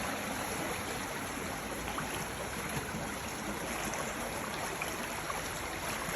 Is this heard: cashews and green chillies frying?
no